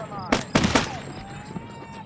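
Three or four sharp gunshots go off close together in the shooter game Shellshock 2: Blood Trails, then the scene settles into a quieter background hum.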